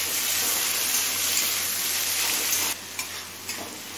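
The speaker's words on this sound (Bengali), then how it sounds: "এবার যতক্ষণ না টমেটো নরম হচ্ছে ততক্ষণ মিডিয়াম ফ্লেমে ভেজে নেব।" Chopped tomato frying over a medium flame, a loud, steady sizzle that drops sharply near the end, leaving a quieter hiss with a few light stirring scrapes.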